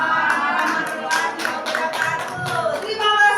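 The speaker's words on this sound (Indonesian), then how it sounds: "Terima kasih, tepuk tangan yang meriah" A workshop room of teachers breaks into dense, lively applause that lasts the whole moment, with voices murmuring and calling out among the claps.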